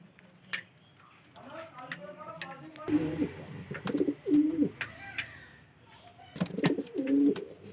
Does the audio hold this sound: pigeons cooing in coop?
yes